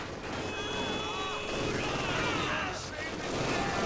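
Battlefield gunfire from the video game Company of Heroes 2 forms a dense, continuous wall of shots and rumbling explosions, loud and steady throughout.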